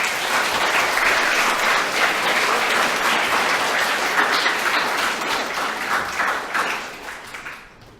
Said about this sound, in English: Let's give these 2 a clap, please.